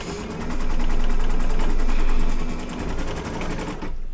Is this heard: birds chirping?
no